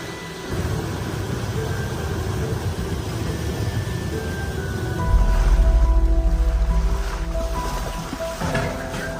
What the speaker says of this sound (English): the farmer is still resiliently driving his tractor through the flooded area